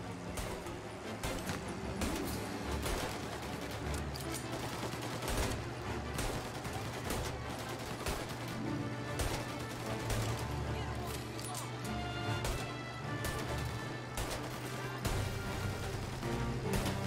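Sustained gunfire in Mafia: Definitive Edition rattles in dense overlapping shots throughout a shootout, loud and continuous with crashes and game action mixed in.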